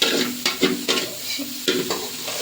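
Onions sautéing in a pan for hotel-style noodles, with a steady sizzle and several sharp bursts of stirring and scraping at irregular intervals, close and moderately loud, no talk.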